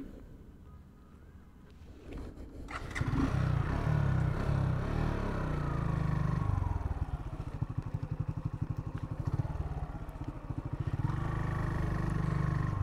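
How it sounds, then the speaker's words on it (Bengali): A Suzuki Gixxer Monotone motorcycle is engine braking during a brake test. After a quiet start, a loud, close engine rumble swells and holds, then settles into a rapid pulsing chug with some wind noise. "এবার আরেকবার আমি ইঞ্জিন ব্রেকটা করি"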